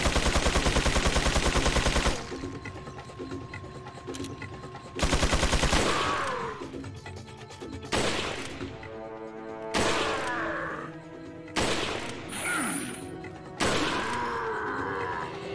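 Gunfire in the video game Resident Evil 4: a loud sustained automatic burst, then repeated single heavy shots and short volleys spaced every couple of seconds, each followed by ringing game effects.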